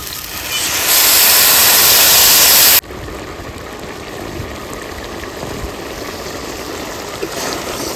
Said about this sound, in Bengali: এবার দিয়ে দেবো একটু জল